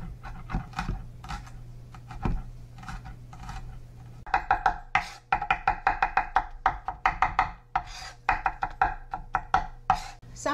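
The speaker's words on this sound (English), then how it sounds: "I'll cut them really nice and fine," A knife chops and minces finely on a cutting board while making bruschetta, starting with a few sparse taps and then breaking into a fast, steady run of crisp, close knocks.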